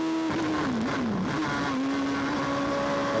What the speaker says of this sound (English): We're on board with Jamie Patterson, car 71